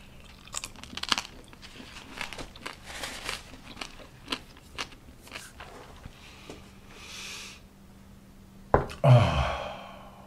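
Crunchy Filipino roast pork skin with meat and fat is bitten and chewed up close, a run of sharp crackling crunches over about eight seconds, then a louder burst of biting near the end.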